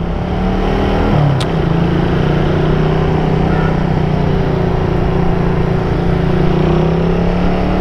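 A Kawasaki 200cc motorcycle rides along on Manila streets, its engine droning steadily and loudly at a constant pitch with a slight rise near the start, no voices over it.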